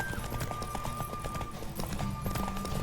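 In a Witcher 3 horse race, a galloping horse pounds out clear, evenly spaced hoofbeats close up, with faint music underneath.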